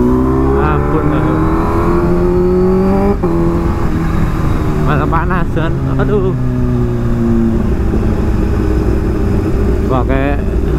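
A Kawasaki H2 motorcycle crawling through jammed city traffic near GBK: a steady, close engine hum with gently rising and falling pitch, and a rider talking over it throughout.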